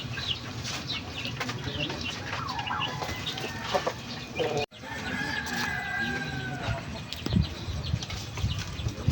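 Backyard chickens and their chicks clucking and peeping, a busy chorus of fowl calls near and far under a steady outdoor murmur, with someone speaking briefly.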